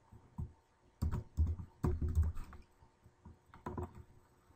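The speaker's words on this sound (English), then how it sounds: "type in my password" Someone types a password on a computer keyboard, close and clear, with short bursts of key clacks separated by brief pauses.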